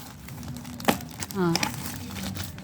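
Plastic parcel packaging from an online order being opened with scissors: brief crinkling and a sharp crackle of plastic, with voices talking over it.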